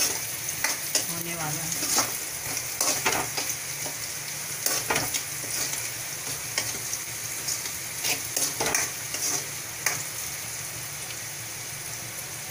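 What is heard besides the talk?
onions frying in a pan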